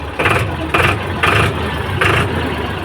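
A 45 HP Powertrac 439 tractor engine, freshly started in cold weather, is revved in four short, loud bursts over a rumbling idle, heard up close.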